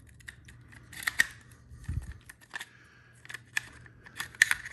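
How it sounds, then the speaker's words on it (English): Metal parts of an AR upper receiver click and clack as the bolt carrier group is dropped in and handled, a series of small sharp taps and scrapes at close range, quiet and without speech. "drop your bolt and carrier in"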